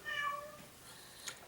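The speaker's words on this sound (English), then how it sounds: "That's my cat Cinders, making her presence known" A pet cat meows in the background of a room where someone is painting with oils: one clear, drawn-out meow up front, followed by a fainter, softer cry.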